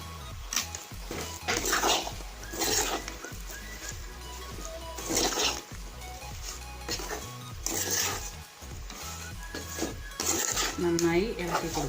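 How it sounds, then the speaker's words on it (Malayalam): A spoon scrapes and clatters against a pan as fried chicken is stirred into a dry masala for a homestyle chicken fry, in repeated metallic bursts over a continuous sizzle, with a voice talking now and then. "വറുത്ത് വെച്ച ചിക്കൻ ഇതിലേക്ക് ഇട്ട് കൊടുക്കാം."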